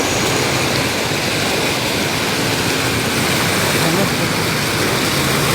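Strong floodwater rushes by in a constant, dense roar, loud and close. The wash stays steady throughout with no break.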